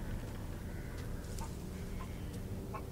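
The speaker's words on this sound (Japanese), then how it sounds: "あ、鶏めっちゃ走ってる" Chickens cluck in a village in the video game Resident Evil Village, a few short, faint clucks over a steady low ambient rumble.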